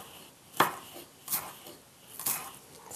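A knife dices jalapeño on a cutting board in three sharp, separate chops spaced about a second apart, close and crisp, with quiet room tone between strokes.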